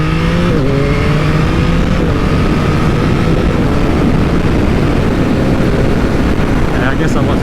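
A Yamaha MT-09 motorcycle engine revs on the move, its tone climbing in the first seconds and then holding, buried under heavy, constant wind roar.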